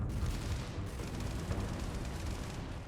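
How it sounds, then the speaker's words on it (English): Explosions in a Starfield video game trailer, a continuous low rumbling barrage of booms and blasts, loud and sustained with no talking. "Explosions!"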